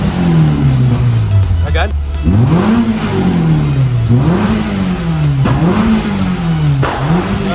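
A Peugeot 106 engine revs repeatedly in close, loud, regular surges that rise and drop several times. Someone speaks briefly over the noise.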